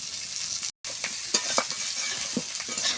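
Elephant foot yam frying in mustard oil in a pan, a steady close sizzle with scattered pops and stirring clatters, broken by one brief cut to silence.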